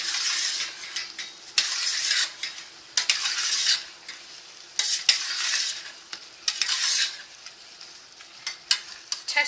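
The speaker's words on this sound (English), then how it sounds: "Give it a stir." Tinda curry being stirred in a pan, repeated scraping sweeps of a utensil through the sizzling mix in bursts with short pauses, close and fairly quiet, no voices.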